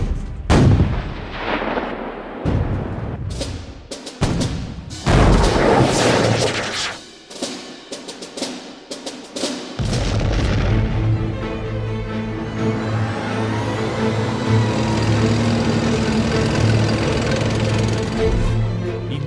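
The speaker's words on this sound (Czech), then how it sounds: "Dnes budeme testovat tank" Czech T-72M4CZ tank firing during a test, a series of heavy booming blasts and cracks in the first half followed by a loud, steady engine roar and rumbling as the tank runs.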